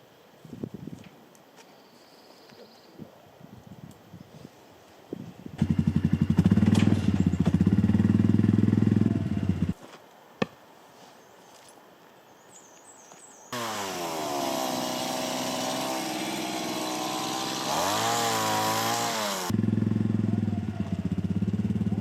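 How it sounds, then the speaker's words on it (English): An engine idles with a steady low rumble, then revs up loud and rough in long bursts with clattering between, close by. "I want Insley to get used to being around the ATV"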